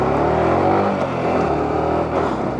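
A motorcycle engine runs loud and steady while being ridden on a road from Ooty to Wayanad, its continuous drone close and dominant throughout, with wind noise and no talking.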